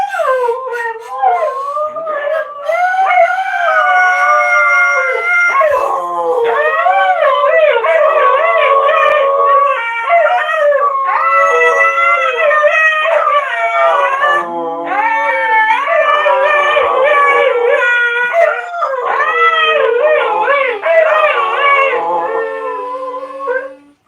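Several huskies howl together loudly and continuously, their long wavering voices rising and falling in overlapping tones, with a few yips mixed in.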